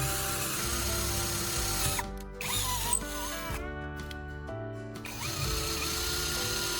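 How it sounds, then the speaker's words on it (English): A cordless drill whines at high speed, cutting out briefly twice, then spinning back up with a steady motor hum and faint rattling. "the drill is working again"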